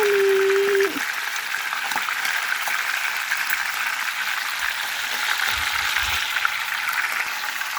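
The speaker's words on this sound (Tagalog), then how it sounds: "Olive oil ang pang-prito." Olive oil sizzles and crackles steadily in a pan close by while frying fish, a soft continuous frying hiss with a brief tone at the start.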